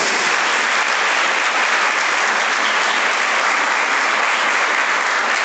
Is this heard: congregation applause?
yes